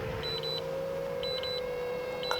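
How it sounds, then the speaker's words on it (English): FPV goggles running low on power give short, high electronic beeps in small repeated clusters over a steady hum and faint outdoor background noise. "My goggles are beeping."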